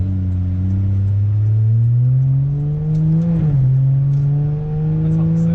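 A 2007 Lincoln MKX with a custom straight pipe exhaust revs with a low, steady exhaust drone that climbs in pitch, dips briefly, then holds loud and close.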